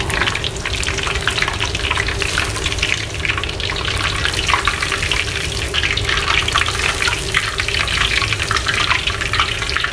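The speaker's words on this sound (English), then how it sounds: "Three minutes we should fry this one." Shrimp for dynamite shrimp fry in hot oil, giving a steady, loud, dense crackling sizzle that holds without a break, with no talking.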